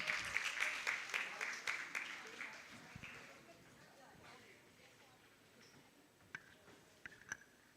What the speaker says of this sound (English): A round of applause for the Maldives Girl Guide Association